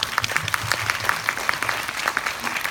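An audience at a film screening Q&A applauds, a steady spread of many hands clapping with distinct rhythmic claps standing out, moderately loud and without talk.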